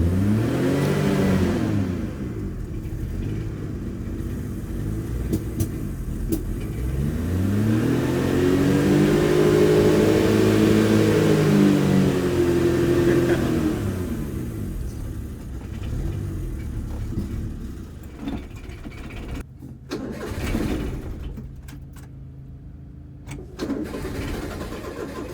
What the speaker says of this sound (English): Okay, I'll try without choke maybe.